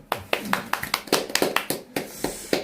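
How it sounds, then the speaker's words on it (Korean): A small group claps after a law lecture in a room, with sharp, uneven, close hand claps scattered in a quick burst that lasts a couple of seconds. "박수."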